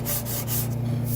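Sandpaper rasps over Bondo body filler on a 2003 Cadillac CTS driver's quarter panel, quick back-and-forth rubbing strokes, close and steady, with a low hum beneath.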